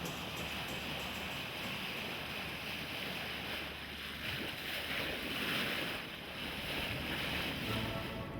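Pelican of London, a sailing ship converted from an Arctic trawler, under way at sea: a steady broad rush of wind and water along the hull with wind buffeting the microphone, continuous and fairly loud with no voices.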